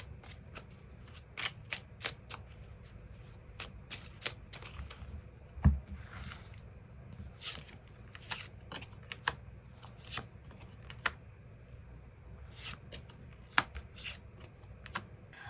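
Tarot cards are shuffled and drawn by hand in a quiet room, with soft, scattered flicks and snaps, a few sharper taps, and no talking.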